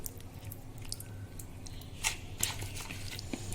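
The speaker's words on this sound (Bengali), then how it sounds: "তাই এটা ভালো করে ম্যারিনেট করে নিচ্ছি" Chicken pieces squished and worked by hand in a sticky coating of spices and sauce, giving soft, faint wet squelches and smacks close up, with a few sharper slaps and no talking.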